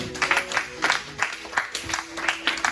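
A church congregation claps in a quick, rhythmic beat at a French-language service, the bursts coming close together over a sustained musical or sung tone, with voices mixed in beneath the clapping.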